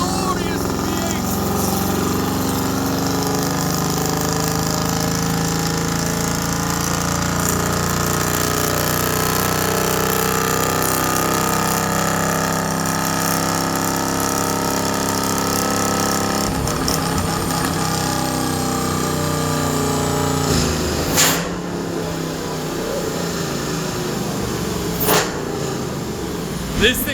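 A supercharged Mercedes C63 AMG V8 runs on a dyno, its engine droning loud and steady as it is held near 4000 RPM before the revs drop, with a few sharp clunks near the end.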